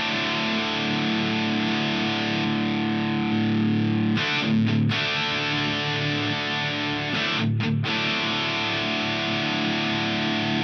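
Electric guitar driven through a Black Op distortion effect on a Headrush pedalboard, a steady, thick high-gain tone sustained throughout with two brief choked breaks in the middle and no talking.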